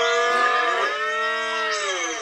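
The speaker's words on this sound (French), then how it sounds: "j'aperçus un troupeau de vaches" Herd of about fifteen cows grazing in a field in Brittany, with one long, loud, close moo that sustains and then shifts pitch upward near the end, filling the clip alone without talk.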